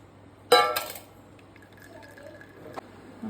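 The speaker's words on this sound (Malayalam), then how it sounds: "പകുതി വെന്ത മാഗിയെ നമുക്ക് ഇതുപോലുള്ള ഒരു അരിപ്പയിലിട്ട് ഒന്ന് ജസ്റ്റ് വെള്ളം ഒന്ന് അരിച്ചെടുക്കാം" Water from half-cooked Maggi noodles gushes through a sieve in one loud half-second splash, then fades into faint trickles and drips, with a single sharp clink near the end.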